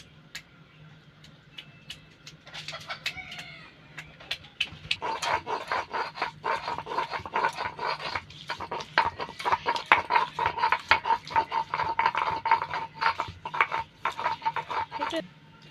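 Tomato being crushed and pounded for a rohu fish curry spice paste with black cumin: rapid, uneven knocking and squashing taps on a hard surface, growing louder and denser after a quieter start.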